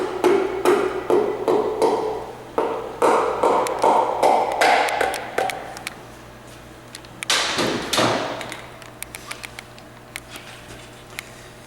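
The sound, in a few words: tapping engine part into place during engine assembly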